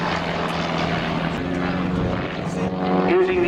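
Propeller aircraft engines drone steadily at an airshow as planes fly a formation barrel roll, a continuous moderately loud hum with a slight rise in pitch toward the end.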